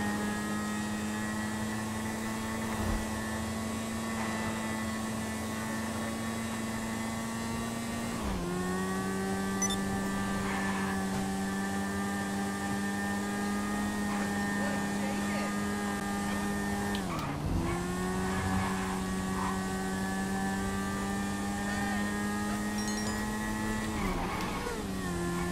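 Shotaro motorcycle engine in GTA 5 Online, a steady high droning whine that holds pitch for long stretches, dipping briefly twice as it shifts and revs back up, loud and continuous with no talking.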